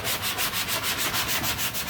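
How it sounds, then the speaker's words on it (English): A sanding sponge scrubs a wall patch in quick, even back-and-forth strokes, a close, loud rhythmic rasp of about eight strokes per second with no talking. "we're gonna sand normally with a normal sponge"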